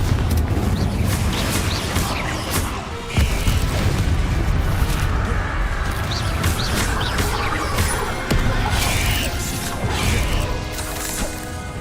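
Spell combat in Hogwarts Legacy, with Confringo fire blasts booming and crashing amid whooshes in a dense, loud, continuous barrage of repeated explosions.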